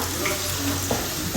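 Onions sweat in a hot pan with a steady, dense sizzle close by, a faint clink of stirring rising briefly near the end.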